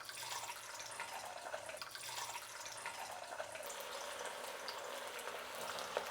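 Anapa-bean snacks for a mixer frying in hot oil give off a steady, soft hiss and crackle, close but faint and continuous throughout.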